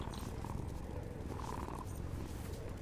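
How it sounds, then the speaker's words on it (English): A cat purrs steadily and softly while being petted in the video game Dragon Age: The Veilguard, a continuous close low rumble over faint game ambience. "the purring is so cute"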